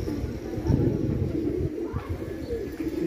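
Pigeons in a loft give soft, low cooing against a busy background of rustling and murmured sound, with a few brighter chirps scattered through the steady bed of noise.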